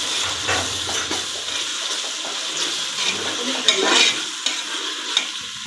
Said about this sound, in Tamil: இப்போ நம்ம இஞ்சி பூண்டு பேஸ்ட்டு போட்டோம்னா நல்லா வதங்கிட்டு